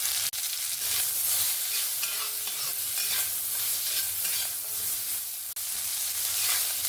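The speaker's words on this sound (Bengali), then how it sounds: "উচ্ছেটাকে হালকা করে ভেজে নিয়েছি।" Bitter gourd frying lightly in mustard oil with salt and turmeric, a steady dense sizzle with occasional stirring scrapes, close and continuous throughout with no talking.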